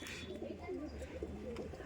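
Pigeons in a loft coo in soft, rolling low calls, a short burst of throaty murmuring close by over faint background hiss.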